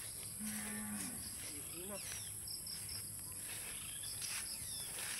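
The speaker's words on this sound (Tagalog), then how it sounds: "Laki na nitong ating bakang isa" A cow moos once on a farm, a short, low call heard early on, with insects chirping steadily and faint outdoor background sounds around it.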